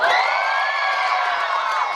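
An audience at a children's breakdancing show shouts and cheers for one of the young dancers, a continuous bright crowd roar with children's voices sustained throughout.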